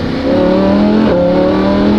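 Lamborghini Huracan with an EVS exhaust revs loudly and close, a sustained droning engine tone with a brief dip and recovery midway.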